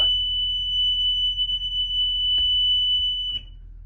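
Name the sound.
bus emergency exit buzzer going off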